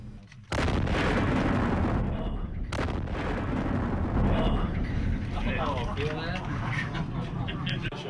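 A deep, roaring test blast at an energetic materials testing range erupts suddenly and keeps rumbling, a sustained heavy boom with crackling debris and wind noise lingering for several seconds.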